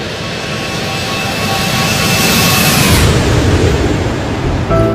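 Roar of a Boeing 777 jet airliner, Malaysia Airlines flight MH370, taking off from Kuala Lumpur for Beijing, a loud broadband engine rumble and whine that swells and then fades slightly as it passes.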